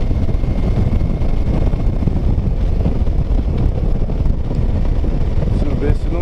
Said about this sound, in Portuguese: O vento pegou na hora que eu fui fazer a curva.